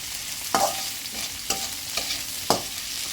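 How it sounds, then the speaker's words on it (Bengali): Green chillies stirred into leafy greens frying in a pan, a soft continuous sizzle broken by four evenly spaced scraping stirs of a utensil, close, with no voices. "তো আমি এখানে কাঁচামরিচ দিয়ে দিলাম অনেকগুলো।"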